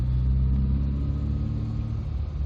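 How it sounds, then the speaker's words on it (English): A 1989 MG Metro 1300 Mark II with hydrogas suspension rolls over speed bumps, its A-Series engine giving a steady low rumble and drone heard from inside, with no talk. "Let's go over some speed bumps and see what this ride's like on the hydrogas suspension"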